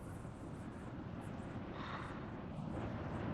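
Steady night wind roars and buffets across the whole stretch, a dense low rumble with gusts swelling and easing, no voices.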